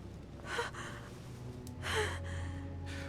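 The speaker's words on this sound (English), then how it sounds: "Her breathing is becoming stable and" A woman in the video game The Council takes two sharp, gasping breaths about a second apart over a low ambient hum, followed by softer breathing.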